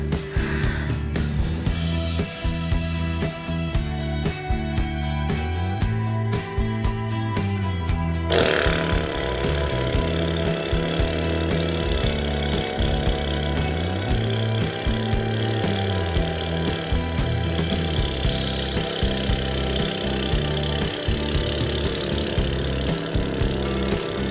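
A voice imitates a tractor engine in a vocal breathing exercise, with a rough, rhythmic chugging rumble that carries on continuously and loudly, shifting in texture partway through.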